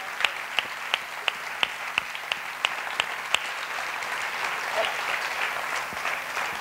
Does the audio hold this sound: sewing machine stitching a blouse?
no